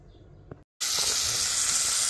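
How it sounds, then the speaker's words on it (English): After a short gap, small cut-up pieces of bacon sizzle loudly and steadily in a pan on a stove, fried to go into a crappie chowder. "this is the bacon I'm frying up."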